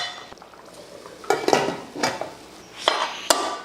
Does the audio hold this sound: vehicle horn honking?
no